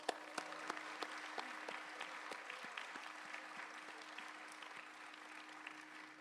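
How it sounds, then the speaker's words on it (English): An audience at a live arangetram dance recital gives another round of applause after the performance, with soft, distant-sounding clapping that carries on steadily, along with a faint steady hum and a few sharper individual claps. "A masterpiece like that deserves another round of applause."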